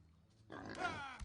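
A pig grunts in the medieval survival game Medieval Dynasty, a short throaty burst rising and holding for about half a second, fairly quiet and heard alone.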